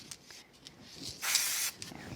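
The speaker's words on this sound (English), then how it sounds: "So I'm going to spray the back of the white one with some spray adhesive." Spray adhesive hisses from an aerosol can onto the back of a white card layer in a papercraft session, one steady spray burst of about half a second amid quiet handling clicks.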